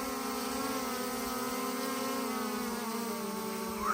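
A DJI Air 2S drone flying outdoors on a 4WD trip near Canberra, giving a steady high-pitched whine and buzz with strong layered tones, faint and alone with no voices.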